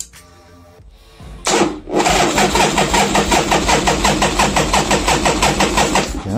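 A 1979 Harley-Davidson XLH Ironhead Sportster is cranked, then catches and fires up, settling into a loud, close, lumpy rapid pulsing idle with no talking.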